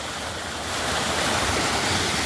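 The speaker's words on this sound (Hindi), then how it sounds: "खड़ी चढ़ाई के बगल पे कुछ इस प्रकार का तेज गधेरा भी है।" Beside a steep uphill path, a fast-flowing mountain stream swollen by rain roars with a loud, continuous rush of water that swells slightly partway through, close by and with no talking.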